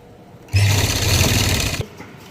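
A sewing machine stitches a pocket onto a salwar in one steady, close, loud whirring run of a little over a second, starting and stopping abruptly, with no talking.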